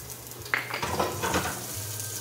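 Garlic sizzling in hot oil in a pan at the start of a stir-fried pig ear dish, a steady close frying hiss with a sharp burst as it hits, plus light stirring and utensil scrapes.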